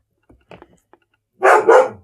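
A dog lets out two quick, loud barks close by after a few faint scattered thuds and noises in a quiet room.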